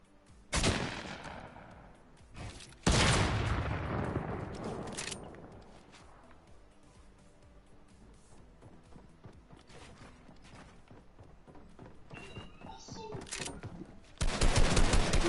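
Bursts of video game gunfire, two loud sharp volleys near the start and another at the end, with quieter mechanical clatter in between; a player's voice is faintly present.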